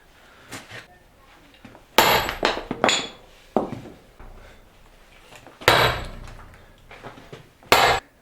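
Irregular heavy thunks and knocks of hammering a wedge into a log, close by, with scraping and quieter taps between the louder blows.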